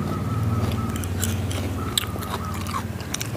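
Someone eats rice with fermented fish (pla ra), boiled vegetables and boiled eggs, with close, repeated wet chewing and crunchy bites under a low steady hum.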